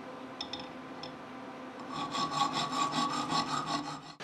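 A workpiece clamped in a homemade machine being cut, with a few light taps first, then a steady close rasping, rhythmic saw-like rubbing for a couple of seconds.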